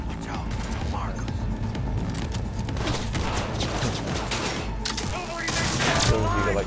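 Rapid bursts of charged shotgun fire in the video game Cyberpunk 2077 pound close and loud over a dense, busy battle mix, with a voice talking over the shooting.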